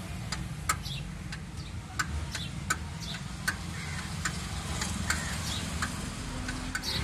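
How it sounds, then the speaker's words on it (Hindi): A starter relay on an old four-stroke Bajaj auto rickshaw ticks in a steady, evenly spaced run of sharp clicks, roughly one every two-thirds of a second, over a constant low idle-like hum, close by with no talking. "पीछे से साउंड आ रहा है, सिर्फ टिक टिक करके साउंड आ रहा है।"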